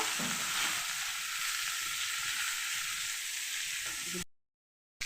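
Onions frying in hot oil while cooking an egg curry kalia, a loud, steady sizzle that runs close and continuous for about four seconds before cutting to silence.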